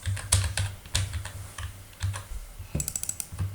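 Keys on a computer keyboard tapped in short irregular bursts at an editing desk, close and fairly quiet, with brief pauses between clusters of keystrokes.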